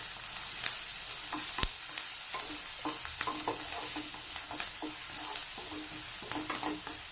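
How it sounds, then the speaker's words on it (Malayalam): Sliced onion sautéing with mustard seeds in hot oil, a steady soft sizzle dotted with frequent light spatula taps and scrapes, close by and without voices. "കടുക് ഇട്ട് ഒടിഞ്ഞ് വെച്ചേക്കുന്ന സവാള, ഇട്ട് ഒന്ന് വഴറ്റാം"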